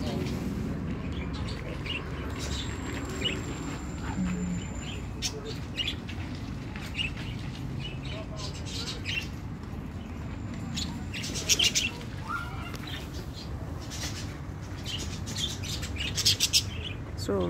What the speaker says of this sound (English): All the different birds that are in here.